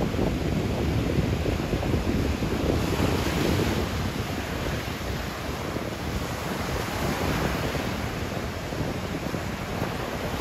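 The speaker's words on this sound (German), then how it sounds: "Auflandiger Wind." Strong onshore wind rushes against the microphone over steady surf on Es Trenc beach in Mallorca, a loud continuous roar of breaking waves and gusts with no voices.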